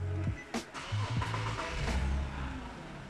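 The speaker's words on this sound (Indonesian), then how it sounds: "ternyata suaranya nggak semenggelegar itu nih kalau pakai knalpot standar" A stock-exhaust Nissan Fairlady 370Z starts up close by, settling into a steady, moderately loud idle with a brief rise in revs near the start.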